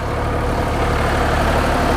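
A Sonalika tractor diesel engine runs steadily during a load test with people standing on it, a loud, continuous low rumble heard close by with no talk.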